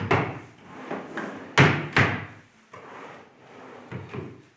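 Drawers of a handmade child's wardrobe slide open and shut several times, with sharp wooden knocks and thuds at irregular intervals, close and loud with no talking.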